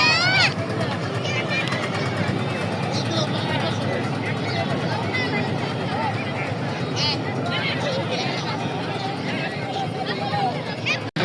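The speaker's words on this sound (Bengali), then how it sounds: "হ্যাঁ, আমরা এখন বোটে উঠবো।" A boat ride on a river, with a constant rumbling engine and water noise running throughout, heavily overlaid by people chatting and a crowd babbling close by.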